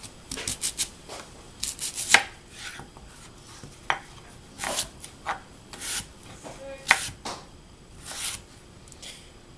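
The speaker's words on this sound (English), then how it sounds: "Next, we are cutting the sweet potatoes about as thick as we cut our carrots." Knife chops raw sweet potatoes on a cutting board in a kitchen: irregular sharp knocks and scraping rasps in uneven bursts, some louder cuts standing out, with no talk.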